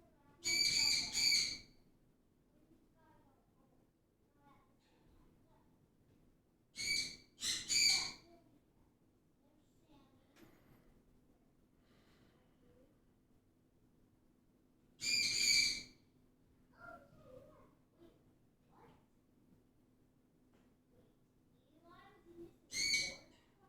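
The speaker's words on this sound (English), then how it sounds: "Damn birds." Several bird calls ring out in short bursts spaced several seconds apart, loud and clear above a quiet, faintly humming background.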